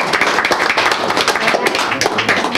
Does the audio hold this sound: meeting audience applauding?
yes